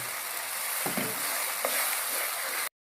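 Chicken for a spicy chicken and black chickpea curry sizzling loudly in a pan on high flame, a dense continuous frying hiss with a few faint spoon scrapes, then cutting off abruptly.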